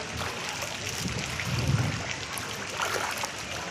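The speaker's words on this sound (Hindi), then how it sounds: "एबे भी वर्षा हो" Monsoon rain falls on a poor basti settlement in Ahmedabad as water flows and trickles nearby, a continuous broadband rush with a soft gurgling swell in the middle.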